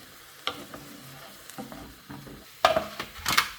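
A stir fry of vegetables with broccoli, edamame and rice noodles sizzles in a pan, with scattered scraping stirs and a burst of louder sizzling toward the end.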